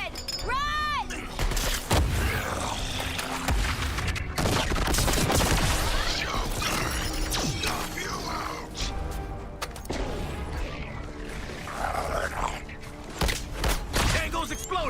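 A self-destructing enemy exploding in the video game Suicide Squad: Kill the Justice League, heavy booms and shattering blasts mixed with gunfire and chaotic combat noise, loud and layered, with people talking over it.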